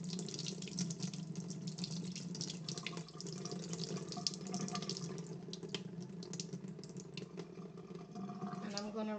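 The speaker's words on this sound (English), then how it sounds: "And I'm gonna rinse it one more time" Tap water runs steadily over salted fish in a kitchen sink as it is rinsed, a continuous close splashing wash with faint clinks, playing alone throughout.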